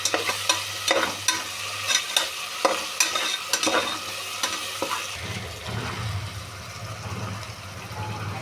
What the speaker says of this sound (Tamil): பூண்டு பேஸ்ட்டு போட்டு நல்லா ஃப்ரை பண்ணிக்கலாம்.